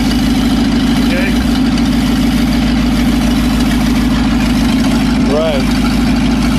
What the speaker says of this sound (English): Don't run too bad for a bench setting on the carburetor. Well, it sounds good.